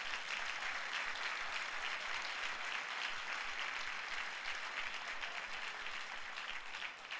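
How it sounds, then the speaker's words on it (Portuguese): A church congregation bursts into sustained applause during a worship service, a dense, even wash of clapping hands that holds steady throughout before easing slightly at the end. "Então vamos dar um aplauso a esse Deus pessoal."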